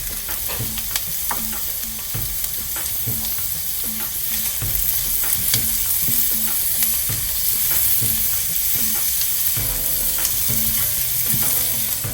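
Carrots sizzling steadily in a hot pan with garlic while being stirred for sago pongal, a continuous close frying hiss with repeated scraping stir strokes and no talk.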